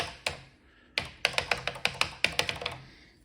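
Keys clacking on the keyboard of a Soviet ZX Spectrum clone, short-travel keys tapped close up: a few separate presses, then a quick run of about a dozen crisp clicks, with no voices.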